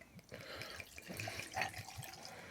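Water splashes and trickles as a cocktail glass is rinsed out, a steady wet patter with small drips, fairly faint and close, no talking.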